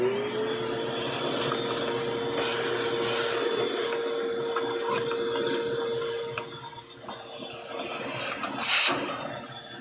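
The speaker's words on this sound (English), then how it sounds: "I don't know how loud the vacuum is going to be" A vacuum cleaner runs steadily in a fountain pen shaping workshop, a constant whining drone with a sustained tone, moderately loud and dipping briefly before a sharp burst near the end.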